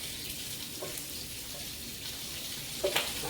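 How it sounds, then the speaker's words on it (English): Bacon frying in a pan for a bacon cheeseburger gives a steady close hiss with a few sharp fat pops near the end, and no one speaks. "I'm getting popped left and right by this bacon today"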